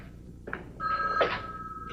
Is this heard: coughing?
no